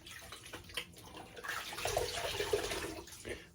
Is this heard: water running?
yes